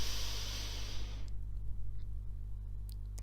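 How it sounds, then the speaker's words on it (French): A slow, deep breath in through the nose, filling the belly during a calming meditation, gives a soft, steady airy hiss for about a second before falling quiet over a low hum. "Inspirez en gonflant le ventre."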